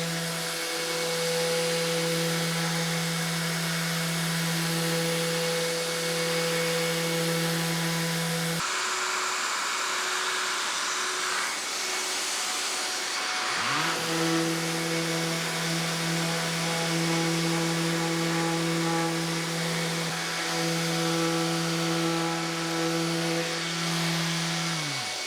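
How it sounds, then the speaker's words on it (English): Vevor and Festool orbital sanders running on walnut, a steady droning whine with a strong hum that cuts out briefly and then spins back up, continuous and close. "I just want to see what kind of finish I have left from both sanders."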